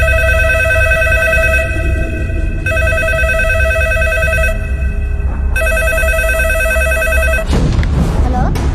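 A telephone rings in a Telugu film scene: repeated bursts of electronic ringing tones with short pauses between them, set over a rumbling background bed, with a noisy clatter near the end.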